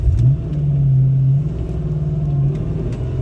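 A Fox Body Mustang engine idling and revving at an intersection, heard as a loud, close, low rumble that swells with a rev and then settles into a steady throb.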